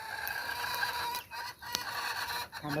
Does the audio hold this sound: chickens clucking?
yes